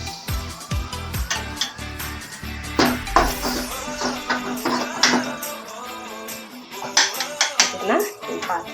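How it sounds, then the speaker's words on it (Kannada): A spoon clanks and scrapes around a metal pot of sambar in quick, irregular strokes, close and fairly loud, with a voice speaking faintly underneath. "ಚೆನ್ನಾಗಿ ಮಿಕ್ಸ್ ಮಾಡ್ಕೊಳ್ತಾ ಇದ್ದೀನಿ"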